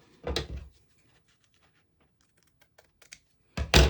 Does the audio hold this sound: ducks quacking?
no